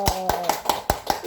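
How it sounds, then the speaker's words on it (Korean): Congregation clapping in unison at the close of a Sunday worship service, six sharp, evenly spaced claps in a steady rhythm, with a voice talking faintly underneath. "하나님께 감사의 박수 올려드리겠습니다"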